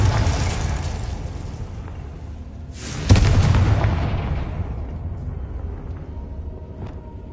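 A Confringo blasting spell explodes in Hogwarts Legacy on PS5: one sudden, loud, booming blast partway through, rising out of steady game ambience and rumbling away over a few seconds, with no talking.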